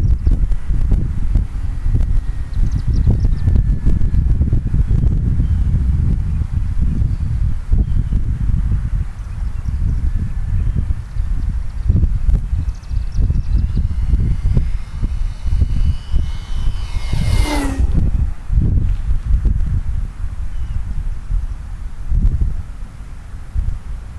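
Wind blows hard across an open RC plane flying field, a loud, constant low rumble with gusty buffeting on the microphone. Near the end, a high motor whine from an F4F Wildcat model plane sweeps past.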